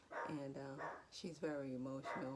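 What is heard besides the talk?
new puppy barking in her kennel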